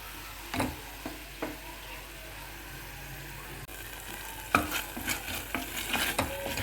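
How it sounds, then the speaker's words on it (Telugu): Tempering seeds with fenugreek fry gently in a pan, a low steady sizzle broken by sharp spoon scrapes and stirring strokes, sparse at first and then more frequent toward the end. "ఇలా పోపు వేయించుకోండి."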